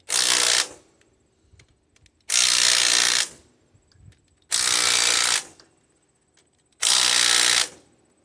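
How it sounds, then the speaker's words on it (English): A 20-volt Hyper Tough impact driver fires in four loud bursts of about a second each, evenly spaced with short quiet gaps between them, in a workshop during work on a Murray mower's 17 hp Briggs engine. "This is an impact driver. It's a 20 volt, a hyper tough Walmart thing"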